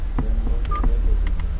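A phone being dialed gives a short run of beeping touch tones, several distinct keypresses in quick succession over a steady low background hum.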